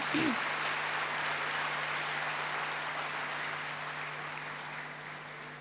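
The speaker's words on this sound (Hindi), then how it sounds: "उस फरिश्ते का हम जोरदार तालियों से स्वागत करते हैं" An audience welcomes a guest with a round of applause at a spiritual gathering, a soft, steady wash of clapping heard from a distance that fades slowly across the clip.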